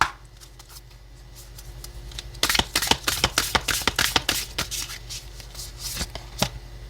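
Oracle cards are shuffled by hand before a weekly tarot-style reading, a rapid burst of crisp riffling snaps up close after a quiet start, followed by a few scattered card flicks, with no talk.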